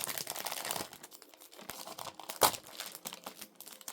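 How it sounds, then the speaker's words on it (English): Cellophane wrapping comes off a limited 4K collector's edition disc set in close, quiet crinkles and tears, with one sharper rip partway through. "So we'll take off the cellophane"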